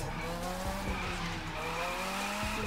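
An RX-7 drifts in The Crew 2 near an airport, its tires squealing in a loud, continuous skid over a steady engine drone, with no talking.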